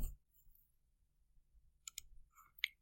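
Computer mouse clicks while selecting spreadsheet cells: a few faint, sharp clicks spaced near the end, alone over quiet room noise.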